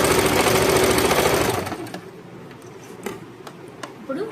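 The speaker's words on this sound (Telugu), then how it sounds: "పాకెట్ రెండు సైడ్లది మనం ఇక్కడ స్టిచ్ చేసుకోవాలి" Industrial sewing machine stitching the two pocket sides of a pair of shorts, a loud steady mechanical chatter for about a second and a half that stops abruptly, leaving faint clicks and handling noises.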